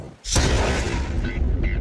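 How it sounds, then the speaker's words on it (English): A car blown up with real explosives goes off in a sudden loud blast that rolls on as a dense, sustained roar with crackling debris, heard up close and alone. "That explosion was a real one."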